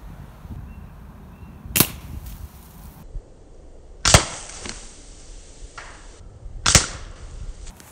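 A Gamo Phox air rifle firing H&M pellets: three sharp, loud, separate shots spaced a couple of seconds apart, each a crisp crack with a brief tail, over quiet outdoor background.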